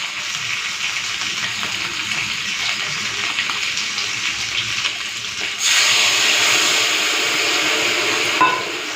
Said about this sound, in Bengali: এখন এই তেঁতুলের জলটা দিয়ে দেবো।